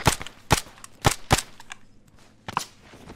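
Gunfire in the video game Arma 3: four sharp, loud shots in quick succession, a short pause, then two more close shots, with no talking.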